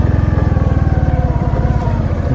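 A motorcycle engine runs nearby at a low, steady idle, a rapid even thumping chug that stays constant throughout, with no talking.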